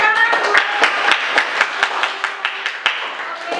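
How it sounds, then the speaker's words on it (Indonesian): A school class claps for a group presentation, giving a modest, slightly uneven burst of hand claps with distinct individual smacks, close and clear, with faint voices murmuring underneath. "Oke, kita beri tepuk tangan."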